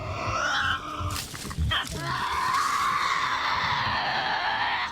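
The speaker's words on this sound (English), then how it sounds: "Even the Tassie's shrieks help them feed and hunt." Tasmanian devils shriek while feeding: harsh, rasping screams and grunts that overlap and run continuously, loud and close, with a brief scuffling break partway through.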